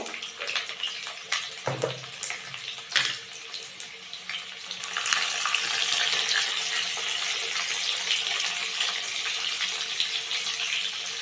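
Salted potato pieces for a Bengali mutton kosha frying in hot oil: a few sharp clinks and knocks come first, then a loud, continuous sizzling hiss swells up and carries on steadily with no voices.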